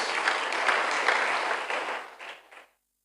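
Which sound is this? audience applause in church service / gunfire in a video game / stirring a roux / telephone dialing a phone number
audience applause in church service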